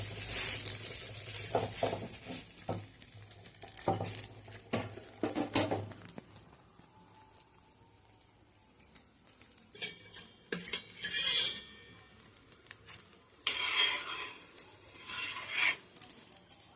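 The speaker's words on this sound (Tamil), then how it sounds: "நெய் ஊற்றிட்டு திருப்பி போட்டுக்கலாம்." Lentil powder is stirred and fried in ghee in a pan, with metal spoon scrapes and clinks against the pan in bursts separated by a quieter stretch, over a faint sizzle.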